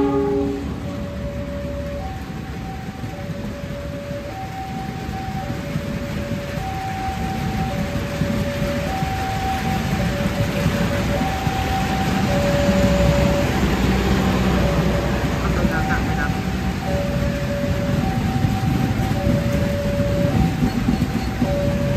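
A passenger train rumbles past a level crossing steadily under a constant wash of heavy rain, while a repeating two-tone crossing alarm bell chimes throughout.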